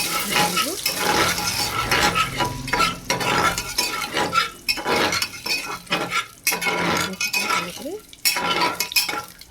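Bay leaf, nuts and raisins are stirred in a pot for khichuri, with continuous close scraping strokes and occasional metallic clinks over a sizzling fry.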